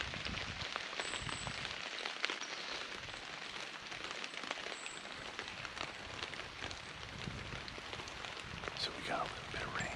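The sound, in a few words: light rain falling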